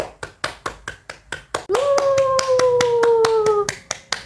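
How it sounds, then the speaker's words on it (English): Classroom group clapping in a steady rhythmic beat of sharp, evenly spaced claps, with a sustained sliding voice tone held over the claps midway. "let's give ourselves a big round of applause for today's learnings"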